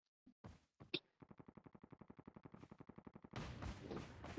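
Rapid automatic gunfire in the Call of Duty battle royale, a few single shots followed by a steady fast burst of evenly spaced reports, then a louder noisy blast.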